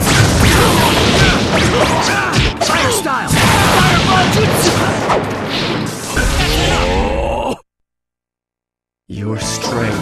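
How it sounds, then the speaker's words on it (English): Fireball jutsu attack in Naruto Shippuden Ultimate Ninja Storm Revolution: a loud roaring blast with crashes and whooshes, mixed with shouted voices, cutting to sudden silence before the noise briefly resumes. "Fire style! Fireball jutsu!"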